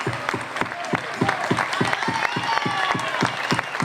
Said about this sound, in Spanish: Quiero el mayor de los aplausos a este gran acordeonista